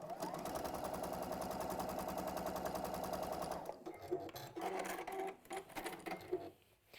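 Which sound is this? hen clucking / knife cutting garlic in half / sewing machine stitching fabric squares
sewing machine stitching fabric squares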